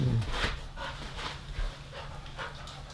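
A dog pants in short, rhythmic breaths close by in a quiet indoor setting, with no talking.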